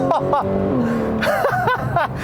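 A 2015 Porsche 911 Carrera S with its 3.8-liter flat-six and PDK gearbox wails through rising and falling revs, close and loud, with a voice exclaiming over it at moments.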